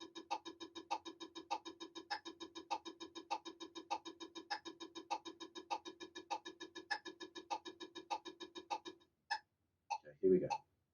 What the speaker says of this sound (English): Next, what we'll play is triple paradiddle.